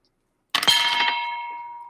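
A die striking a metal water bottle during a tabletop game session: one sharp metallic clang after a brief silence, ringing on with a bell-like tone that slowly fades.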